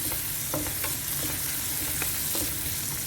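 Onion, ginger and green chilies sautéing in oil in a frying pan, a close, steady sizzle with a few light stirring taps.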